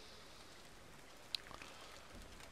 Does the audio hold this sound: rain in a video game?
yes